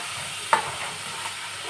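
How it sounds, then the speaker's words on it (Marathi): Chopped tomatoes fry in a pan for Goan-style prawn sukha, a steady close sizzle with a brief scrape of stirring partway through and no voices. "तेवूय बीन बरें तळसुपाचें, मिक्स करपाचें।"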